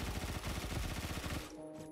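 Sustained automatic fire from a 10mm SMG in the shooter game Phantom Forces, a loud, fast, even rattle of shots that cuts off near the end, leaving faint game ambience.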